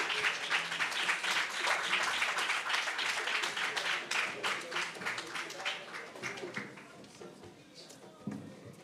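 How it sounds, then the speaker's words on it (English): Audience at a PR roundtable awards event clapping as a second-place prize winner walks up, dense applause that holds strong for several seconds, then thins and fades toward the end. "Please keep clapping as she comes up."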